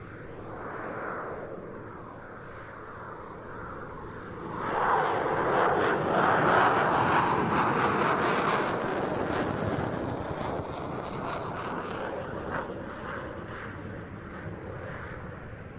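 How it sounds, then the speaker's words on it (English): A military jet flies a slow high angle of attack display pass at an air show finale at Duxford, its engine roar swelling as it approaches and then holding steady, with wind buffeting the microphone. "the aircraft comes in towards us for its high alpha, high angle of attack pass"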